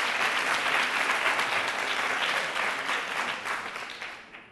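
An audience at a Catalan spelling-quiz competition for school teams gives a burst of applause, full and steady at first and then gradually thinning and fading out.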